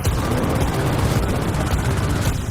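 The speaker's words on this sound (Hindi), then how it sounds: "मेरे पास हेलीकॉप्टर है। ओह, तुम्हें हेलीकॉप्टर मिल गया।" A helicopter in a war-themed shooter video game whirs steadily, its dense rotor roar blending with a continuous rattle of gunfire and blasts.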